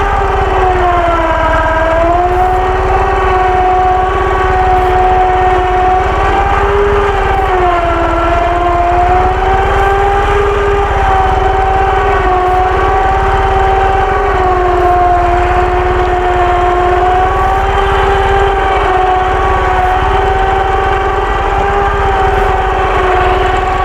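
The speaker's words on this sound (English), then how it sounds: "Turn the winch on." An electric winch running steadily on a Ural motorcycle, a loud continuous whining motor tone that wavers slightly in pitch, heard close and alone without talk.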